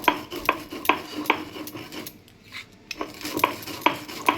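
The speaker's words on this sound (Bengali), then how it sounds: "এদিকে আমি শিলে এটাকে গুঁড়ো করে নিই" Regular scraping, knocking strokes of roasted spices being ground on a stone slab, with a brief pause midway before the rhythmic grinding resumes.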